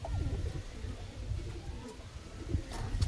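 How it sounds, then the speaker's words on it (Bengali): Pigeons kept for sale, a high-flying breed, coo softly and repeatedly at close range, with low throaty calls recurring throughout amid faint background noise. "এই দেখুন পায়রা দেখুন, ছটপটে দেখুন কেমন।"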